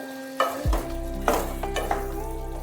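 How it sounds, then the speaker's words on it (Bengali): New potato curry cooking in ghee is stirred in a pan, with a few spoon scrapes and clinks over a steady low sizzle, close and fairly quiet, no voices. "ঘি দিয়ে ভালোভাবে একটু নাড়াচাড়া করে নিতে হবে"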